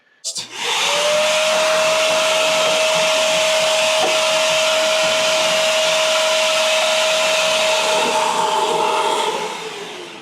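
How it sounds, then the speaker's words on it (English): A vacuum cleaner runs steadily for about nine seconds, lifting dust off the outside of a refrigerator during home maintenance. It makes a loud, close whine with a constant tone, then winds down at the end. "turn on the vacuum cleaner and just brush this off real light"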